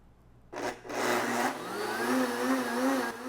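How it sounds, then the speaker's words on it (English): A blender whirs ube ice cream mix, kicking in with a short burst, pausing, then running loud and steady with a rising whine as the contents smooth out. "And then in the blender."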